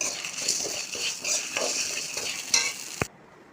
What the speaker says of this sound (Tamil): எல்லாம் நல்லா சோக்க வறுக்கணும்